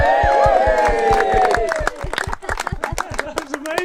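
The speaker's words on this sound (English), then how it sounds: "Round of applause." A crowd claps sharply and rhythmically at a presentation event, mixed with loud cheers and whoops in the first half, then thinning into scattered, uneven claps with voices.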